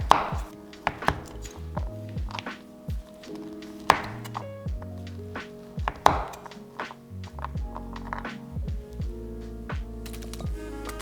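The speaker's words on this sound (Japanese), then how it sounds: "同じく小さなさいの目切りにします。" A knife dices mochi into small cubes on a cutting board, giving a run of sharp, close chopping taps in an uneven rhythm over a steady musical background.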